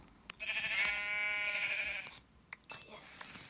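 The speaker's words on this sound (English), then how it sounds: "I just killed a sheep" Sheep in a video game bleating in one long wavering cry, close and clear, with a few sharp clicks and game effects around it.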